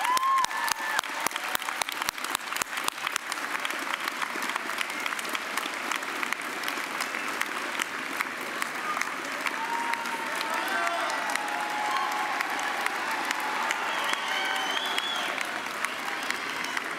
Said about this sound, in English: give them a huge round of applause for all their love and work